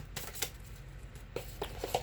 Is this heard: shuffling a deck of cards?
yes